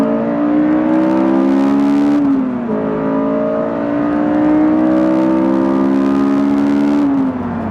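A Honda S2000 and a straight-six BMW Z4 accelerate hard side by side in a race, loud engine tones climbing through the gears with two shifts, the revs dropping and rising again before falling away at the end.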